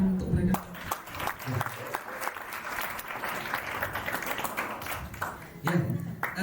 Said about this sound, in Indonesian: Sekali lagi dong tepuk tangan untuk mereka.